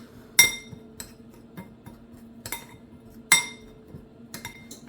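A spoon clinks against a bowl while mixing ground cinnamon and allspice for wassail, a few sharp clinks spaced over a soft steady scraping, close and clear with no talk.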